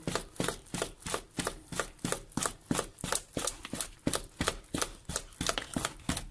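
Muffin batter of milk, flour and melted butter being mixed by hand, a fast regular beating rhythm of about three strokes a second, steady and close throughout.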